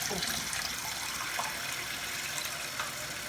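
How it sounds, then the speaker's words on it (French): Rinse water from soaked buckwheat sprouting seeds is poured off in a steady, close gushing stream that runs without break, with no voices. "et on vide toute l'eau"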